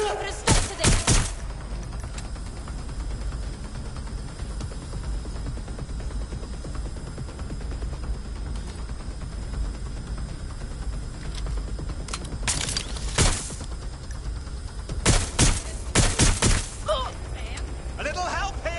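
Video game shootout with loud bursts of rapid gunfire near the start, around the middle and toward the end, over steady background noise with voices shouting.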